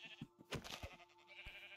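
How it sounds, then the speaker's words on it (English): Sheep in the Minecraft video game bleat in a few short, quiet calls, one after another, with a faint background hum and no talking. "There's more than three sheep here."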